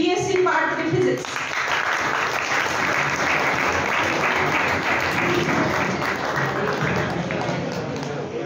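Loud, dense audience applause at a college science club prize ceremony for an essay prize winner, a sustained roar of many hands clapping with crowd noise, following a short spoken announcement at the start.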